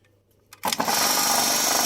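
An electric fuel transfer pump with dry hoses switches on after a brief click, jumping straight into a loud, steady whirring drone that runs without a break, used to refuel a Solis RX50 tractor.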